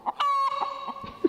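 A hen in a mirror maze gives a few short clucks and one sustained, tonal call, close and fairly quiet, with a brief squawk at the end and no talking.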